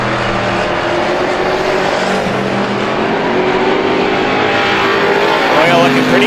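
Race cars roar continuously around a tight quarter-mile bullring short track during heat racing, a dense loud engine drone with overlapping cars and brief tire squeal, under a race announcer's commentary.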